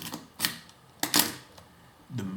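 A Cosina Hi-Lite ECL film camera fires its shutter several times at manual speeds, including a one-second exposure, each release a sharp mechanical click with a fainter second snap, close and alone in a quiet room.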